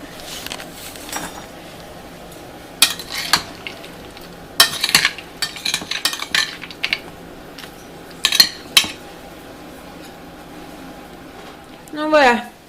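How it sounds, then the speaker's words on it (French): Broccoli Caesar-style salad tossed with vinaigrette in a bowl, giving scattered clinks and rustling stirs in short bursts over a low room hum, with a louder scrape near the end. "Je vais mélanger."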